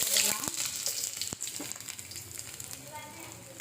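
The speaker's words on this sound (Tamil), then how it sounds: "வெங்காயம் போட்டுட்டு நல்லா சுண்டிட்டுக்கலாம்." Onions hit hot groundnut oil in a pan for chicken fried rice, a crackling sizzle with sharp pops and stirring clatter early on that settles into a softer, steady fry, with no speech over it.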